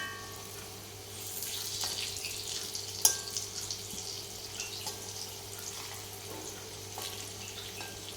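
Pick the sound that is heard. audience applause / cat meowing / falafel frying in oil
falafel frying in oil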